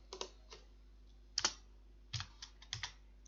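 A few scattered keystrokes on a computer keyboard while entering a schedule in ProjectLibre project-planning software, close and quiet, in small irregular clusters with no talking.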